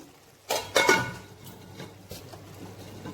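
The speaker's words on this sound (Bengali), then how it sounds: "ঢাকাটা আবারও খুললাম" A metal lid comes off a cooking pot of bottle gourd and mung dal simmering on a gas stove, giving a couple of close clattering clinks followed by a softer clink and quiet kitchen background.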